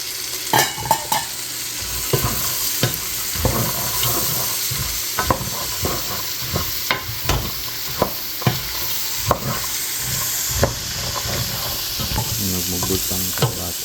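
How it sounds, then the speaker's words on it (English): Celery and carrots sizzling in a pot for seafood chowder, a steady loud fry close by, punctuated by regular scrapes and taps of a spoon as the vegetables are stirred, with no speech. "Add celery and carrots at the same time."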